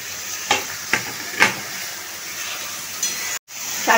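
Rice for a festive plain pulao fries in a pan under a soft steady sizzle, with a few sharp scraping stirs of a spatula spaced through the clip and a brief cut near the end.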